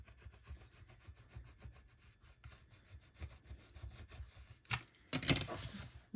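Craft card material being scraped back down by hand while making a taco birthday card, a close, soft rubbing and scraping texture with uneven strokes that turns into louder, sharper bursts near the end.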